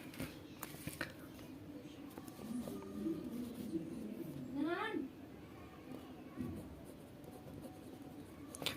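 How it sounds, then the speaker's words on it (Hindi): A pen writes on paper in short scratchy strokes and taps, soft and close, while a voice murmurs faintly in the background. "मैं यहाँ पर लिख लेता हूँ पूरा ये सब"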